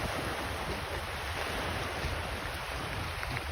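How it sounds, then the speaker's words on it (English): Ocean waves wash onto a beach in a steady, continuous roar of surf with a hint of wind across the microphone, fairly quiet and with no voices. "Hypnotic sound of the waves."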